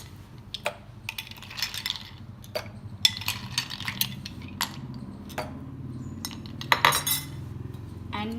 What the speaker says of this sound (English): And now I'll add in a few ice cubes.